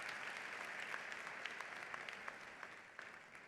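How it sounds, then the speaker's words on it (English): A convocation hall audience at a university Founders' Day and honors recognition ceremony gives a round of applause for platform and distinguished guests: dense, sustained clapping from many hands that holds steady throughout. "Let's give all of our platform guests and distinguished guests a round of applause."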